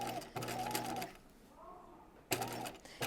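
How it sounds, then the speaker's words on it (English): A sewing machine stitches a raglan top in two steady bursts of running motor hum. A quieter pause separates them, with faint movement between the runs. "So I'm trying to stitch just to the left of that so that it doesn't show on the outside of the top."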